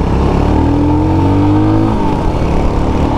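A 2023 Royal Enfield Himalayan motorcycle's engine rises steadily in pitch as it accelerates on a test ride, loud and close, then drops back as the revs fall.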